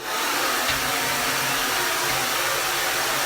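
A hair dryer rough-dries hair, blowing as a steady, loud, close airy roar that continues unbroken for the whole clip, with no voices over it.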